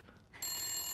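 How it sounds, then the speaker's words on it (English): An old telephone rings in Resident Evil Village, a bright bell starting abruptly and holding steady and loud for under a second, with no talk over it. "This is called a telephone."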